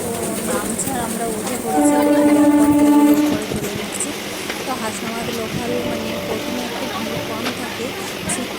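A passenger train rumbles along with a steady clatter while a loud horn blares for about two seconds, and a voice talks over it.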